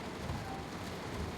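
Steady rain in the Train Sim World 2 railway simulator, a soft, even hiss of falling drops with low rumble underneath, faint and continuous with no voices.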